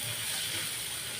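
Green chillies and onion sautéing in a pan, giving a steady soft sizzle and hiss that stays low and even throughout, with no talking.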